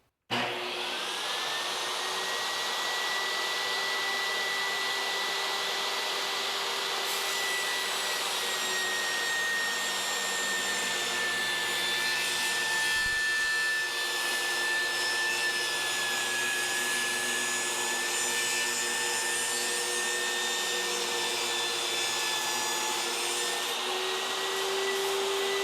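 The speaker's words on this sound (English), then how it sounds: "Start the saw." A Kobalt 10-inch table saw runs steadily while ripping a 1.5-inch strip, giving a loud continuous whine with a steady high tone that holds through the whole cut, with no talk.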